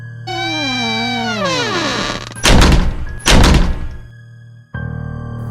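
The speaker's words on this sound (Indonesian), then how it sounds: "Pintu kamar tertutup dengan sendirinya." An interior bedroom door swings shut on its own in an Indonesian ghost story, heard as a drawn-out sliding creak followed by two loud, heavy thuds close by, then a low steady background.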